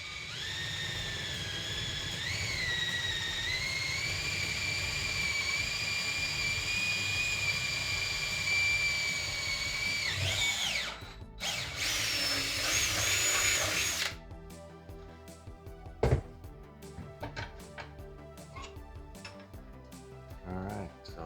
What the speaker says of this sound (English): I think we got our last hole to drill here